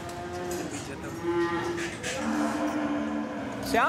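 Cows mooing at a family-run cow hospital in India, long, low, drawn-out lowing calls in overlapping waves, close and loud over a busy background, with another call rising at the end.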